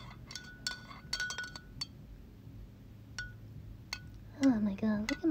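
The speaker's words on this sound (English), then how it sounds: "Oh my god, look at my spoon swimming around in the tea as I stir it" Metal spoon stirring tea in a cup, with a few light, sharp clinks against the side spread out over several seconds, close and fairly quiet, followed by a brief spoken voice near the end.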